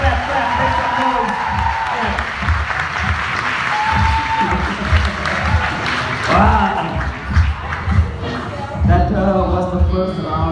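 Applause and clapping from a poetry competition audience, loud and steady across the whole stretch, mixed with crowd voices and a speaker talking over it.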